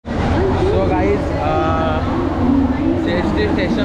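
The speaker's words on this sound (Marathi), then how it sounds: "CST स्टेशनला आहे आणि ट्रेन आलेली आहे" A local train pulls into CST station in Mumbai during heavy rain, its rumble and metallic squeal under a busy platform crowd, with nearby voices talking over the noise.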